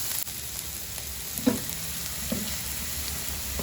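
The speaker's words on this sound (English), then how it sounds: "Keep stirring and cooking it for further another minute." Chopped onions with turmeric powder frying in a pan for egg masala, a low steady sizzle with two brief scrapes of a spoon stirring, close by and with no talk.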